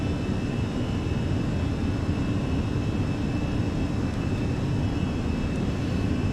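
Constant loud roar of Airbus A320 engines during a go-around in the Fenix flight simulator, a dense low rumble with a faint high whine, steady throughout with no speech.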